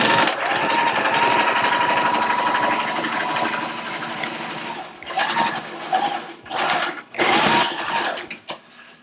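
Sewing machine stitching pieces of a fabric face mask, a steady rapid mechanical whir that runs continuously and then breaks into short separate bursts near the end, close and fairly loud.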